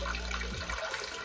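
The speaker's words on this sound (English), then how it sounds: "the pump is pumping the water at the perfect rate" Water pumped through a homemade DIY pond filter, a steady splashing flow with a gurgling shift partway, close and moderately loud, no talking.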